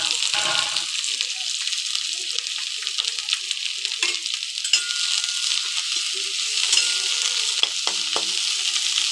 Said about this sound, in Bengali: এবার ভাজা ভাজা হয়ে যাওয়ার পরে শাকগুলো দিয়ে দেব।